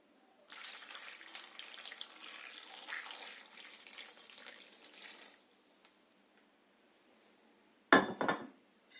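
Boiling water pours steadily from a vessel over hot chili peppers in a bowl for about five seconds, a close, splashing stream that fades to quiet, followed by a brief sharp clink and rattle near the end.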